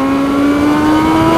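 A Yamaha R6 sport motorcycle accelerates hard, its high-pitched engine note rising steadily and loud, close to the rider with no speech over it.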